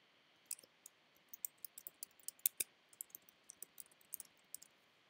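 Rapid, quiet clicks of typing on a computer keyboard, irregular keystrokes spaced closely across several seconds with no talking.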